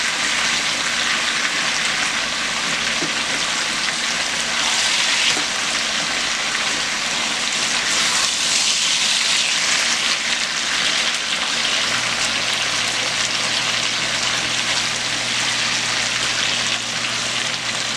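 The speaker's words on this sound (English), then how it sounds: "The bottom has been frying, and I'm just going to flip it around." Potatoes sizzle and crackle steadily in a hot skillet while frying on their bottom side, a dense, continuous frying hiss with no one speaking.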